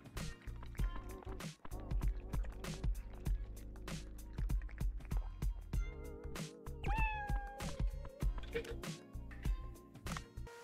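Cat meowing in the Dave the Diver video game, with a few short meows over busy game music and sound effects, moderately loud against the background.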